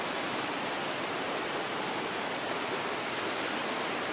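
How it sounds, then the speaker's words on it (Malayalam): Water falls steadily into a stream in a scenic outdoor spot, a constant broad rushing wash that sounds alone and unbroken throughout. "നിങ്ങൾ കണ്ടു നോക്കുന്നുണ്ടോ വെള്ളമൊക്കെ വീഴുന്നത്?"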